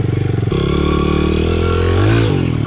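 A Honda CRF 100F dirt bike engine drones loud and close, its pitch dropping abruptly as it shifts gear, then climbing again under throttle before easing off near the end.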